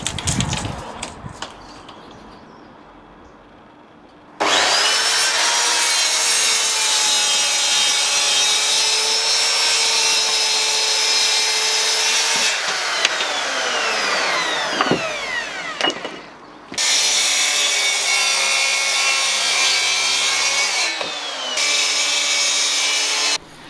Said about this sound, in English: I can then cut the piece to width and length using my track saw.